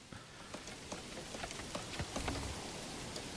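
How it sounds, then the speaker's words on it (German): Steady night rain pattering in the medieval city-building game Manor Lords, a dense hiss of drops with scattered louder taps, continuous and even throughout, no voices. "diese unglaublich lange Nacht mit dem unglaublich langen Regen geht irgendwann mal zu Ende"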